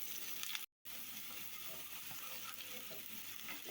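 Vadagam tempering sautéing in hot oil for a tomato curry, a steady crackling sizzle with occasional stirring scrapes, close and continuous apart from a brief cut.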